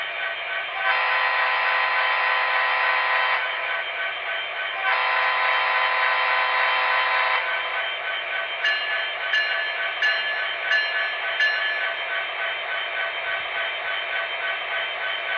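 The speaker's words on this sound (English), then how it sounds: "put this locomotive to notch number 1" MTH SD70ACe Union Pacific model locomotive creeping slowly in notch 1: a steady electronic diesel engine drone with a louder rumble swelling and easing twice, then a short series of bell-like chimes near the end.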